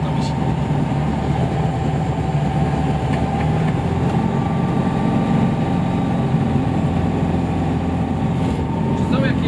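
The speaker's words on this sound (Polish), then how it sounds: "To jest silnik szybkoobrotowy, także on się kręci do tych tam 5500." High-revving light aircraft engine in flight, a fast-turning unit spinning up to about 5500 rpm, drones steadily and loudly throughout at a constant pitch with dense cabin rumble and no break.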